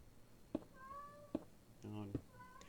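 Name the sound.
cat meowing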